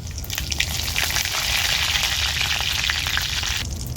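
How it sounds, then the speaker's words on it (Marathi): Mustard seeds and curry leaves crackle and sizzle in hot oil as the tempering for a quick tomato saar, a dense, steady hiss that stays loud and close for about four seconds with no voices. "तर आता मी राई घालून घेते तेलात तर इथे मी कढीपत्ता घेतलाय तो पण घालून घेते"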